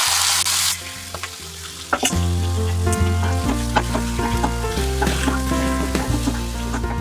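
Onions fry in a pan with a little leftover marinade yogurt stirred in, a steady broadband sizzle running beneath loud tonal music throughout.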